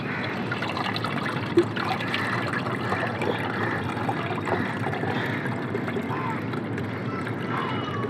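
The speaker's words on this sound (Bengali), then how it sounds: "এভাবে আপনারা ছেঁকে ফেলবেন" Water soaked with onion peel and lemon juice trickles steadily through a strainer for a bean-plant fertilizer, an even, continuous pour close by with no talk.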